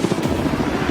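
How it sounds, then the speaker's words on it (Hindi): A helicopter flying over an island, its steady rotor throb and engine drone continuous and loud throughout, with no other sounds standing out. "ये हेलीकॉप्टर हमारे बॉयज को ऊपर हवा में ले जाएगा"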